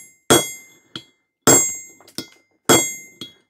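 Hammer blows breaking a ceramic HRC fuse cap to get scrap silver inside: three loud, sharp cracking impacts spaced about a second apart, each followed by a lighter clink of debris or rebound.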